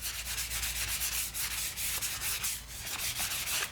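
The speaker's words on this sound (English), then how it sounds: "this is just some 320 grit that I have" Wood being sanded by hand with 320 grit sandpaper: steady, close-up abrasive rubbing strokes that continue without pause, with no one talking.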